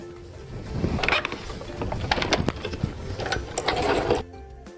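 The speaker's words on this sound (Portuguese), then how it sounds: "E agora nós vamos passar uma costura aqui, ó, sempre na direção que tá as pences" A home sewing machine, not a professional model, stitches a fabric face mask with an internal filter: a close, continuous mechanical whirring hum with rattling, running for about four seconds before stopping abruptly.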